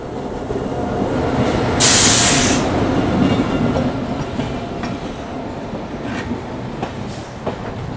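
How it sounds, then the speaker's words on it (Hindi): Bilaspur–Bhagat Ki Kothi Express train passing alongside on an adjacent track, a steady close rumble of rolling wagons with a brief loud hiss burst and scattered clicks of the cars going by. "इस टाइम हमारे बगल से गुजर रही है बिलासपुर भगत की कोठी एक्सप्रेस"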